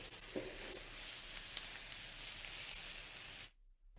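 Spinach sautéing in a pan makes a dense, steady sizzle with faint stirring clicks, cutting off abruptly into near silence at the very end.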